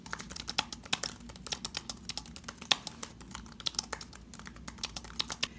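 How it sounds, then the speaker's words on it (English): Typing on a first-generation Apple Magic Keyboard with chiclet-style keys: rapid, muted, shallow key taps in an irregular fast patter, close and continuous with no talking. "compare that to something like a chiclet style keyboard like the Apple Magic Keyboard first generation"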